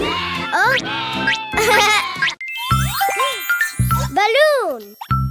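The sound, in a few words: cartoon sheep bleating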